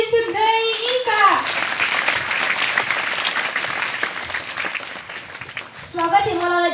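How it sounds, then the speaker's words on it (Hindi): An audience, many of them children, breaks into sustained applause to welcome a guest at a school interview event, with speech before and after the clapping. "तो जो तालियों से स्वागत करते हैं मलाला यूसुफ़ज़ई का"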